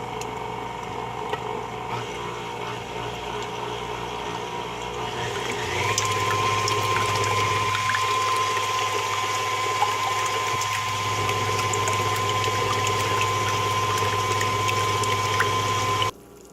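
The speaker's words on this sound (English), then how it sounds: "I'm going to go ahead and turn the blender on." A mixer or blender runs while beating oatmeal raisin cookie batter, a steady motor hum that steps up to a louder, higher drone partway through and then cuts off abruptly at the end.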